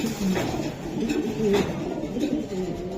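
A racing pigeon coos close by in soft, repeated throaty calls, with a quiet background and little talk.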